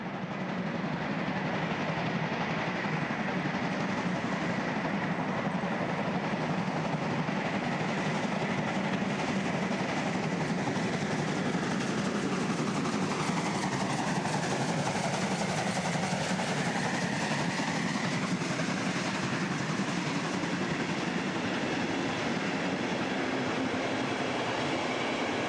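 Steam locomotive 52 80 75 hauls the Rodelblitz train up steep grades near Oberhof, a dense continuous rumble and roar of the engine and rolling cars, loud and steady throughout with no voices.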